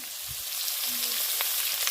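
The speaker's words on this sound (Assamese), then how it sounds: "এনেকৈ দিছোঁ পেটুখিনি ৰঙা ৰঙাকৈ ভাজি ল'ব লাগিব" Goat tripe frying in a pan, a steady close sizzle with light crackles running throughout, no voices.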